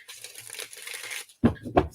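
Playing cards are shuffled by hand in a brief, papery riffle lasting about a second, followed by two sharp snaps as the deck is squared, close up with no talk.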